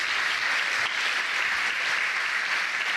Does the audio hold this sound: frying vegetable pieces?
no